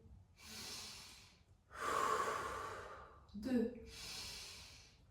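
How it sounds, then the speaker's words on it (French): Slow, deep breaths in and out through the nose during a fascia-release exercise. Long, airy breath sounds come one after another close to the microphone, and a voice briefly counts between them. "on va respirer 6 fois par le nez"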